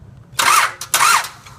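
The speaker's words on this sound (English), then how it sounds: "as you can see now, I click it and it turns the engine." A car engine being cranked with a remote starter during troubleshooting of a no-start fault, two loud whirring cranking bursts separated by a short pause, with no voices.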